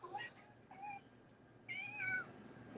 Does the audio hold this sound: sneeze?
no